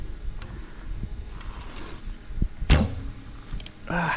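Bow arrow shot in a video game played while operating a vehicle during a solar eclipse: a sharp whoosh-and-thud release near the middle, with a second fainter one at the end over low rumbling game noise.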